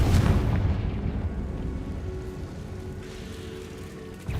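A Confringo spell explosion in the Hogwarts Legacy video game, a loud booming blast at the start that rumbles and fades across the clip, followed by another burst at the end.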